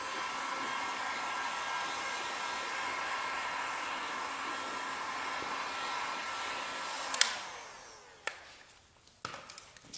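A heat gun blows hot air over vinyl tint on a car headlight, giving a steady, fairly loud airy roar. It cuts off near the end, followed by a few sharp handling clicks and taps.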